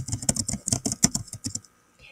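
Quick, close keystrokes on a computer keyboard clatter in a steady, uneven rhythm for about a second and a half, then stop.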